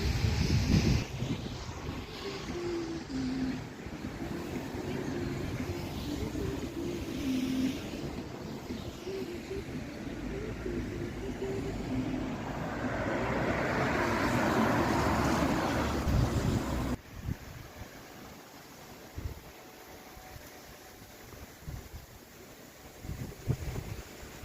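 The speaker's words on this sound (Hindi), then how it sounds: "बहुत ज़्यादा तेज़ हवा है, ड्रिजलिंग हो रही है" Strong wind gusts buffet the microphone outdoors during a drizzly, cold day in Luxembourg, a loud continuous roar that swells midway and then drops into quieter, broken rustling near the end.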